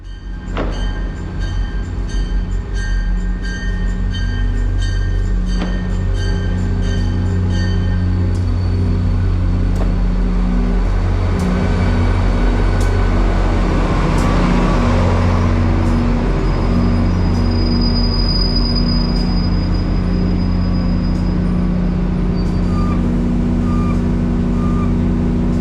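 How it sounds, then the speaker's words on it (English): A CT Rail EMD GP40-3H diesel locomotive leads a three-car Danbury branch shuttle into South Norwalk station, a steady close low engine drone and rumble with tonal hums and faint squeals as it slows to a stop. "6862 is seen arriving on the Track 4 eastbound platform with CT Rail EMD GP40-3H 6698 leading the 3-car Danbury branch shuttle to a stop"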